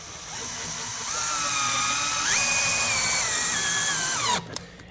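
A power drill drives screws to fix shutter brackets to a top frame during a bi-fold track shutter installation, its whine steady and close, rising in pitch midway, then stopping abruptly near the end.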